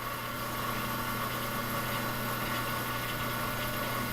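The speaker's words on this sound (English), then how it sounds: "See, our motor is now starting." Electric motor in an electrical lab running from a 120-volt power supply, a steady continuous hum with faint tonal whine, even loudness throughout and no speech.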